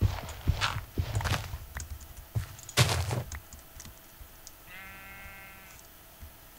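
Several sheep bleats from a mining video game, one loud and close, mixed with footsteps and keyboard clicks, then a thin buzzing tone.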